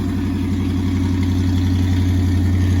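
Loud, steady rumble of a 1965 Ford F100 truck engine idling, swapped onto a Crown Victoria frame, with true dual exhaust: a deep even exhaust drone with a regular pulsing beat and no change in pitch.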